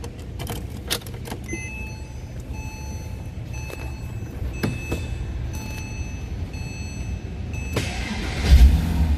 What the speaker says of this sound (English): we're gonna start the car up